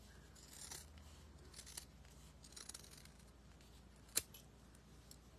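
Scissors snip fabric into strips for a primitive snowman craft, a few quiet, close cuts with soft rubbing and one sharp click, heard alone in a calm room.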